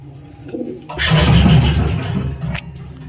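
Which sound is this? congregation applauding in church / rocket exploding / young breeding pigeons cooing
young breeding pigeons cooing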